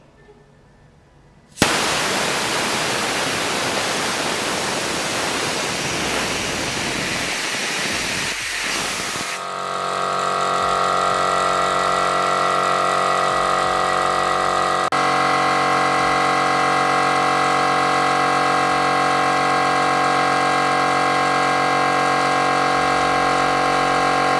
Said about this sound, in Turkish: Manuel olarak emniyet valfini çekerek basıncı 6 bara düşürdüğümüzde kompresör otomatik olarak çalışıp 8 bara ulaşacaktır.